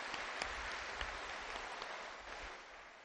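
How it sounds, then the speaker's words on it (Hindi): An audience claps loudly in a hall during a spiritual discourse with music, a dense, steady patter of many hands that thins slightly toward the end. "लिए जोर से तालियां बजाएंगे।"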